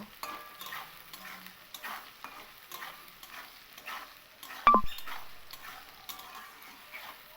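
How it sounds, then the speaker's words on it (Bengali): Salted mixed vegetables for veg dal frying and being stirred in a pan, a soft steady sizzle with scraping spoon strokes and one sharp clatter midway. "লবণ দিয়ে আমি সবজিটাকে আরও দুই থেকে তিন মিনিট একটু ভেজে নেব"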